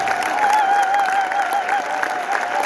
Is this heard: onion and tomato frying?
no